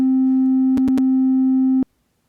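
Pure synthesized sine-wave note at C4, made in AudioTool, sounding as a steady loud held tone with a few quick clicks partway through, then stopping abruptly into near silence.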